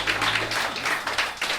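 An audience applauds after an orchid presentation, a steady wash of many hands clapping at moderate loudness with no one speaking.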